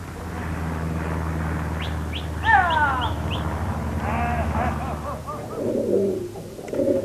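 Pigeons cooing in a 1984 British television science segment, soft repeated coos heard alone against a low background hum, with a few higher chirping bird calls mixed in.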